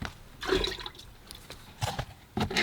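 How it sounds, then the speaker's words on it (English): Fresh water is poured and splashed into a watercolor painter's water container in a few uneven gushes and drips, close and fairly quiet, with no talking. "put some fresh water in my water container first thing"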